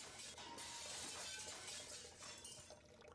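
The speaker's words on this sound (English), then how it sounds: "This time, I hear the high-pitched noise of glass cracking." Glass tanks holding jellyfish crack and shatter in a game scene, a sustained bright crunching and tinkling spray of breaking glass with water splashing, fairly quiet and without talk.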